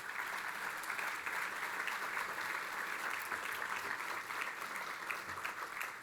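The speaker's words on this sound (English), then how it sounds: "Let's give a big round of applause to all of our sponsors and co-hosts today." Steady applause from a conference audience at a technology summit, thanking the sponsors and co-hosts. A dense, even wash of many hands clapping holds at a constant level for the whole stretch, with no voices standing out above it.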